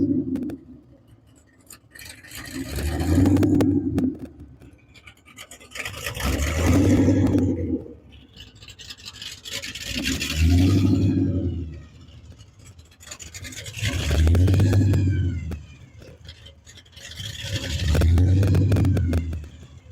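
Hot rod cars rev loudly in five repeated surges, each engine roar swelling and falling back with a few seconds between, close by and with no talk.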